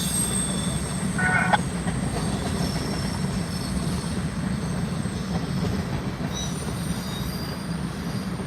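A freight train with CP locomotives rolls past in Ottumwa, Iowa, a steady heavy rumble of railcars with wheel squeal and rhythmic clatter, close and continuous, with no voices.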